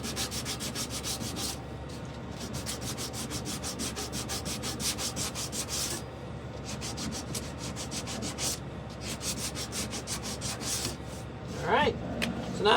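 Sanding a wooden bowl with shavings held against it, a steady loud rasping rub in quick repeated strokes, continuous and close, with one short pause partway through.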